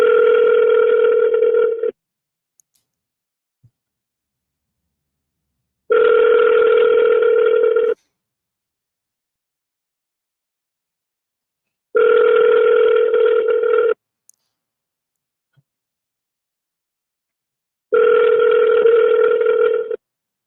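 An unanswered telephone call ringing back, four loud two-second ring bursts spaced evenly about every six seconds with silence between them.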